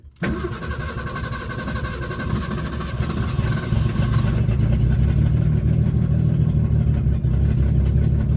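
A Ford Mustang engine cranks and fires up, then runs with a massive exhaust leak, a rough low rumble and chuffing that settles into an uneven idle and grows steadily louder, close by.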